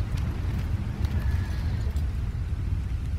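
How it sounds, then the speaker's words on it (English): A horse in Red Dead Redemption 2 moves with close, steady hoof clip-clops and a brief whinny partway through, over low rumbling ambience. "Actually, that's convenient because I mounted the wrong horse."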